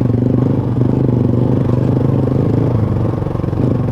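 A motorcycle pushes along a rough, narrow forest trail, its engine droning loud and steady right up close, with rattling and scraping from the bumpy ground.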